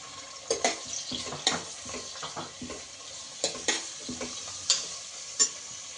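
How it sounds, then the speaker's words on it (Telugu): Onions fry with green chillies in a hot pan, sizzling steadily while a spoon scrapes and stirs in sharp, irregular clicks, close and fairly quiet. "ఈ ఆనియన్స్ బాగా బ్రౌన్ కలర్ వచ్చే వరకు ఫ్రై అవ్వాలి."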